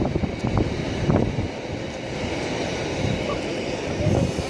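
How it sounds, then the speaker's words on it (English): A Voyager diesel train passes on the West Coast Main Line at Nuneaton, producing a steady broad rumble and rush with wind noise across the microphone. The sound holds constant throughout with a slight swell near the start and end. "here's the Voyager"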